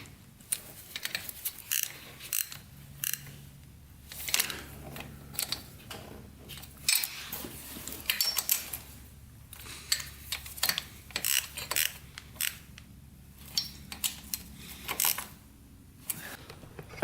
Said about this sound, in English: Get all these nuts tightened up here on the head.